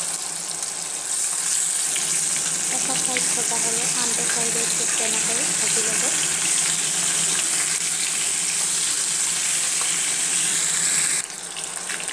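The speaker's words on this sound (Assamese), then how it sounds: "ভালকৈ ভাজি ল'ব লাগিব।" Shol fish rubbed with salt and turmeric frying in mustard oil in a wok, a continuous close sizzle with faint crackling that runs steadily before cutting out near the end.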